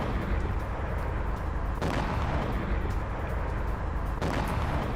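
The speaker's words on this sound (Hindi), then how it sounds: "अलग अलग जगह पर किस तरह से धमाके हुए हैं ड्रोन अटैक की वजह से" Blasts from a Ukrainian drone attack in Crimea come through as a continuous loud, rumbling roar of heavy explosions, with sharp fresh bursts standing out at intervals over the dense din.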